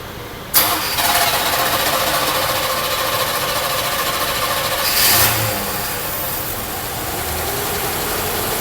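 A Chevrolet Camaro engine with a 2-barrel carburetor cranks and catches abruptly, then settles into a steady, fairly loud idle, with a brief surge in revs midway through.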